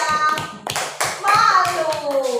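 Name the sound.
children clapping for a classmate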